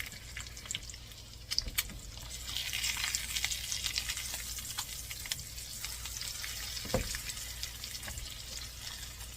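Frozen spinach seasoned with salt and pepper cooks in a pan with a steady close sizzle and hiss, a few soft clicks and scrapes breaking through.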